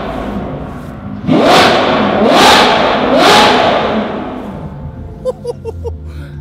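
A 2020 Chevrolet Corvette C8 engine revs three times in quick succession, each sharp loud rise and fall close by, then settles to a rumbling idle with a few short pops.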